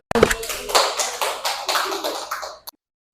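Students in a classroom clap in a loose, uneven burst of hand claps lasting a couple of seconds that ends in one final sharp clap and then silence.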